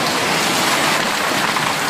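Heavy hail in Stavropol, stones around 20-25 millimetres, pelts down in a dense, steady roar of impacts, loud and unbroken throughout, with no voices.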